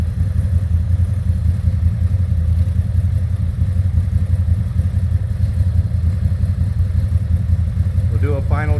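A CF Moto ZForce 800 side-by-side engine idles steadily while warming up after an oil change. The low, even rumble is close and loud and holds constant throughout, with a brief higher rising whine near the end.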